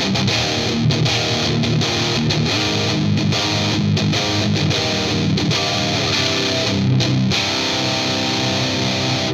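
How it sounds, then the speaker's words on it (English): Heavily distorted electric guitar chugs through a driving rhythm riff, loud and dense, with rapid palm-muted bursts and brief stops, no voices. "this is literally just a straight up rhythm tone"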